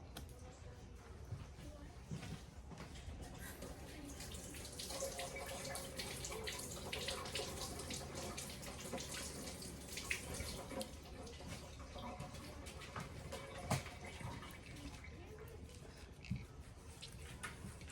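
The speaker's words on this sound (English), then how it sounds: "I'm going to go ahead and just run a few of them under the sink myself" Kitchen sink tap running water over snow peas being rinsed by hand, a steady faint splashing stream with occasional light knocks, heard alone at low volume.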